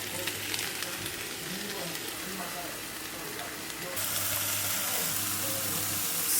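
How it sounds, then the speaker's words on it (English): Food sizzles in a frying pan with a steady crackling hiss that swells louder partway through, close by, with faint voices in the background. "Sizzle, sizzle."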